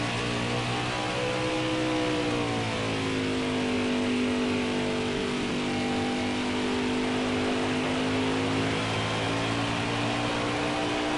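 Craftsman Truck Series race truck engine held at full throttle at Richmond in a racing game, a loud sustained roar whose pitch dips and climbs smoothly through the run without pause.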